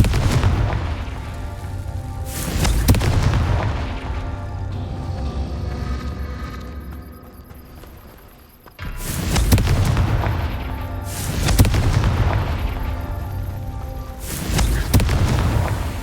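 Confringo fire spell blasts in the Hogwarts Legacy video game, a run of loud, deep booming explosions at irregular intervals, each with a rumbling tail and a short quieter lull partway through.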